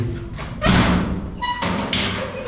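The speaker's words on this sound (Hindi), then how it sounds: "ये दरवाज़ा मैंने बाहर खोल दिया" A door on a house in Rawalpindi swings open onto the roof with a dull thud and clatter near at hand, followed by a brief creak and soft rattling, no one speaking.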